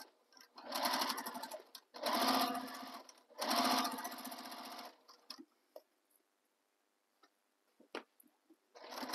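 A sewing machine stitches across the bottom of a tote bag in three steady, close bursts. Quieter pauses follow, broken by a few light clicks of handling.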